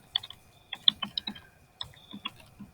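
Close, clicky keystrokes on a computer keyboard as a project title is typed, arriving in short irregular bursts with brief pauses between them and no talking.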